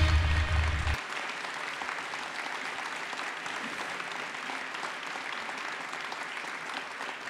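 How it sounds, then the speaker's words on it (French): A conference audience breaks into warm, sustained applause welcoming astrophysicist Hubert Reeves, the clapping steady and even after a brief low thump at the very start. "un tonnerre d'applaudissements, s'il vous plaît, pour Hugues Rives."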